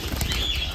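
Birds flapping their wings inside an aviary flight cage, a brief flurry of soft, fluttering wingbeats over a steady background hiss.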